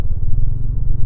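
Loud, close low rumble of a Bajaj Dominar 400 motorcycle engine and exhaust, a steady throbbing idle with no other sounds.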